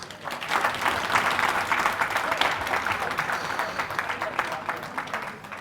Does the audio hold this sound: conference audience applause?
yes